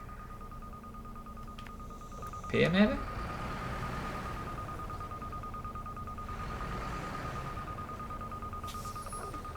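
A metal detector's ringing tone in SnowRunner during a geological exploration task, a brief clear chirp burst against a steady hum, while someone talks quietly over it.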